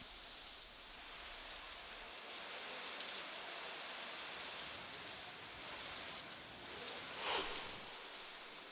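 Steady rain pours down in Satara during a heavy monsoon downpour, a dense even hiss of drops on surfaces that holds throughout, with one brief brighter splash or clatter near the end.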